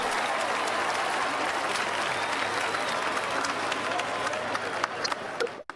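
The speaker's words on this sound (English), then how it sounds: "I have applause" A played applause sound effect during a livestream birthday moment, a dense and steady burst of clapping and crowd noise that cuts off abruptly near the end.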